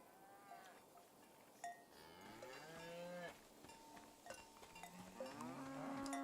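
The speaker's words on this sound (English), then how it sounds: "The name of this cow is TVC15." Cattle in Season: A Letter to the Future moo repeatedly at close range, several wavering low bellows overlapping one another above quiet ambient noise, with no talking.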